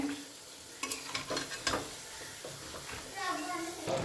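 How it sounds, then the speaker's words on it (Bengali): Utensil scraping and stirring beef on the bone with cabbage in a pan over a steady background sizzle of frying, with a few sharper clatters. "আগে লেড়ে দেবো"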